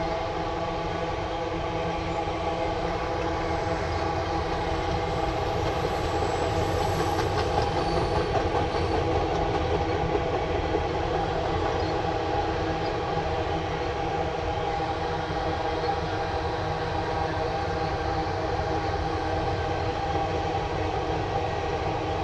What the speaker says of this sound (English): I hear a rumbling of an engine.